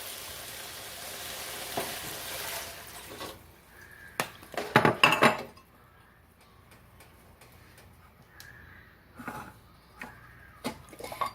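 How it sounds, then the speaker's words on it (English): Beef broth poured into a pan of browned ground beef for hamburger stew, a loud sizzling splash in the middle with clinks of pan and utensils around it, then a quieter simmer. "Then add 2 cups of beef broth."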